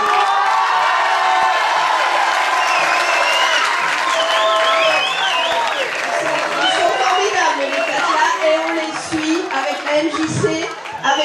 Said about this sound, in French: je vous demande encore des applaudissements très fort